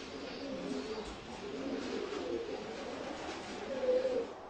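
Young racing pigeons coo softly in a low, muffled murmur that runs steadily throughout, with a slightly louder throaty swell near the end.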